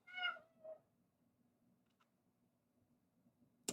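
Cecil, a pet cat, lets out two quick meows close by, the first longer and the second short, then a quiet room with faint clicks and a sharp knock at the end.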